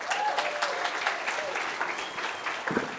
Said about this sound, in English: All right, everybody give David a round of applause.